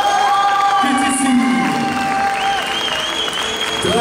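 A crowd at a summer manga and gaming convention in Fréjus applauds and cheers a cosplay contest winner, with steady clapping, whoops and shouts throughout and voices calling over the noise.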